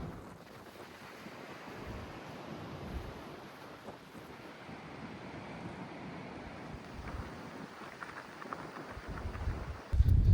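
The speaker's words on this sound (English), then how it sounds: "Super windy out here right now." Strong wind buffets the microphone over steady ocean surf on the Oregon coast, a continuous rough roar with gusts swelling and a loud burst at the very end.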